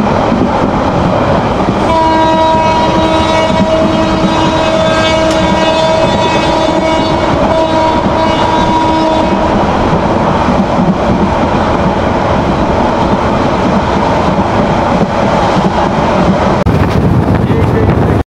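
Saikat Express train running from Chattogram to Cox's Bazar, with a loud, continuous rumble of wheels and carriages, a long sustained horn blast in the first half, and wind buffeting throughout.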